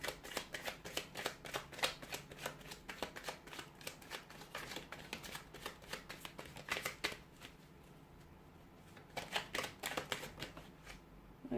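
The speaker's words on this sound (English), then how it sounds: "I'll go ahead and give the cards a shuffle" Tarot cards being shuffled up close, a series of quick riffling bursts with short pauses between them, soft and crisp in a quiet room.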